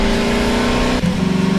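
A car engine revs in Half-Life 2, a short, loud, steady drone with a brief dip partway before the tone resumes at a slightly lower pitch.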